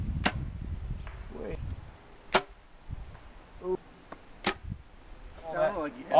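An arrow thuds into a 3D foam archery target on an outdoor course and glances off, leaving several sharp, isolated knocks spaced across quiet surroundings, with faint voices talking toward the end.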